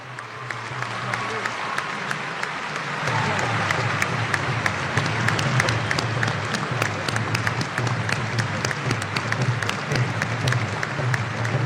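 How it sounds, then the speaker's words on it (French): Sustained applause from a large standing audience at the opening ceremony of the FESPACO 2025 film festival, honouring the jury, a dense steady roar of clapping that swells slightly and continues throughout. "applaudissements nourris"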